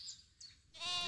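A short goat bleat sound effect in a French audiobook, a faint quavering cry rising to a louder, nasal bleat at the end, with no talk over it.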